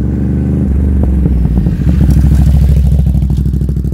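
Ducati Monster 937 with Termignoni slip-on exhausts and the dB killers removed: a deep, loud idle rumble swells into a rev and holds a throaty, pulsing growl, close to the pipes, with no voices.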